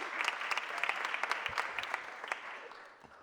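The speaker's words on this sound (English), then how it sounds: "Please give him a round of applause." An audience at a mayor's press conference claps to welcome a city council education committee chair, a moderate burst of applause with individual hand claps standing out, fading slightly toward the end.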